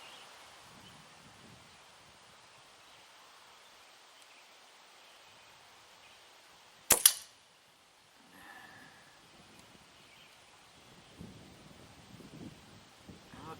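A Crosman Phoenix air rifle fires a single sharp, loud shot in a quiet outdoor setting, followed by a brief ringing tail and then soft rustling and handling noise.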